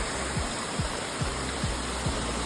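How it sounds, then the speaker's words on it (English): Continuous broadband rush of a waterfall forming along a rain-soaked fort trail on the Neral-Anandwadi-Peb route, steady and fairly close, with faint regular low thumps beneath and no voices. "And ये waterfall बन रहा है नीचे जाके."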